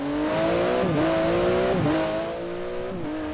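A lowered, tuned Kombi turbo van in a racing game accelerates hard through repeated gear shifts, its rising engine harmonics dropping and climbing again, loud and close, with no talk over it.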